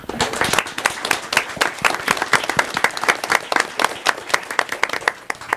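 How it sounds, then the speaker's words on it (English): A room at a county commissioners' meeting breaks into applause, dense rapid clapping from many hands close by, steady and loud for several seconds with no talk over it. "And a round of applause, please."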